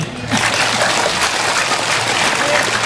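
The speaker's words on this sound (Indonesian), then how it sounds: "Tepuk tangan dulu." Audience applause at a public Islamic religious gathering (pengajian umum), a dense, steady wash of many hands clapping close by after a brief quiet start, with no speech over it.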